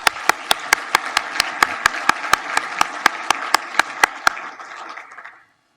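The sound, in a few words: audience applause for sponsors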